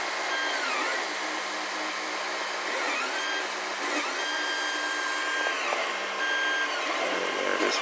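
3D printer running a TPU flexible-filament extruder, with a continuous whirring fan hiss and high stepper-motor whines that rise and sweep repeatedly as the print head moves, heard close and steady with no talking.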